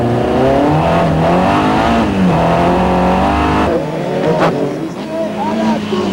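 Race cars on an ice circuit at the Trophée Andros at Val Thorens, engines revving and wavering loudly near by, with a commentator talking over them.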